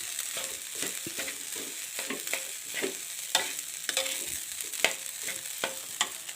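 Spicy nasi goreng fried with kecap and a little wild boar meat over low heat, a spatula scraping and stirring in a pan with steady sizzling and irregular clinks throughout, close and moderately loud.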